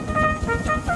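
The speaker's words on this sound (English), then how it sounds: "Then he heard a whistle." Thomas the Tank Engine's steam whistle gives a short tonal toot, bright and sustained for about a second, with no voices.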